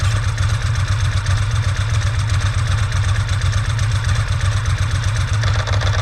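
A 2001 Ducati S4 motorcycle engine runs steadily with the clutch engaged, a loud, close, even low throb with faint mechanical clatter throughout and no talk.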